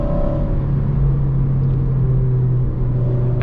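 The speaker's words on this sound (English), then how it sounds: "it sounds really good with this exhaust, honestly" A 2008 Honda Civic Mugen Si with an aftermarket exhaust holds a steady, loud rev, with a deep, continuous rumble and a drone that runs throughout.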